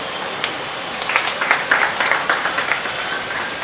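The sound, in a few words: audience applause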